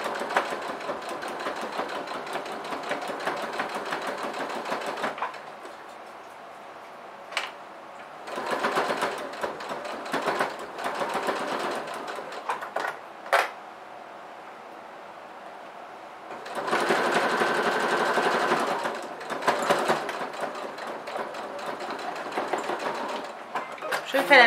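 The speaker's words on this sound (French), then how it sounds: "C'est parti pour la couture et comme d'habitude, mon point d'arrêt au début et à la fin," Sewing machine stitching a straight seam to attach trim onto fabric pieces, whirring steadily in several runs of a few seconds each with brief pauses between, close and clear, with quieter stretches between runs.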